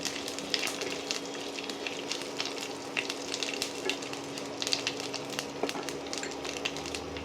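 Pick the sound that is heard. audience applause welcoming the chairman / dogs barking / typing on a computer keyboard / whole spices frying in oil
whole spices frying in oil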